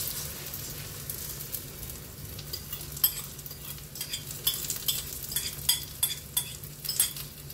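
An egg and eggplant omelette frying in a pan over low heat, a steady soft sizzle that grows busier toward the end with scattered crackles and faint utensil clicks.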